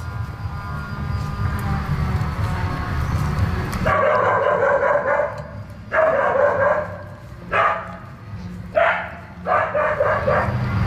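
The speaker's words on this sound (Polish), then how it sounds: "domu pilnuje nam Drakula, pies rasy Akita, który doskonale sprawdza się w roli stróża." An Akita dog barks in a series of about five loud, close bursts, each separated by short pauses, after a stretch of steady low rumbling background noise at a countryside home.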